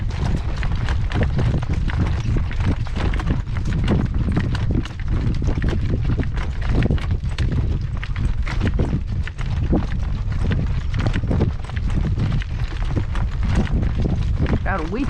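A horse's hooves clip-clop at a working trot in a steady, even rhythm, close and loud, with gusty wind noise buffeting the microphone throughout.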